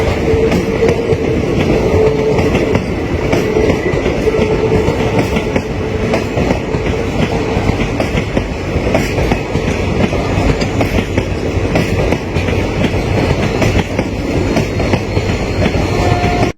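A train rumbles steadily past at close range through a tunnel in Kerala, wheels clattering in a continuous loud roar with a faint high squeal, no voices.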